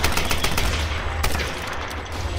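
Gunfire in the video game Tomb Raider comes in a rapid burst of close, loud shots, with a few sharper cracks standing out over a dense rattling layer.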